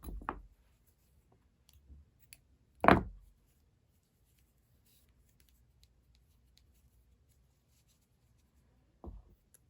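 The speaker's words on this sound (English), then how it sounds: "Cut your yarn." Scissors cutting yarn while finishing a crochet square: a few isolated, crisp snips separated by long near-silent pauses, one of them louder and fuller than the others.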